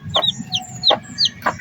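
Several Rhode Island Red chickens, likely newly hatched chicks, cheep and cluck in a quick irregular run of about five calls, close and fairly clear over a low murmuring background.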